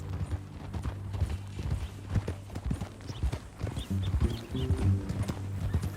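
Horse hooves clip-clop in a steady walking rhythm in the video game Red Dead Redemption 2, close and distinct, over a low, humming background.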